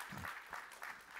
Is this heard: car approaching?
no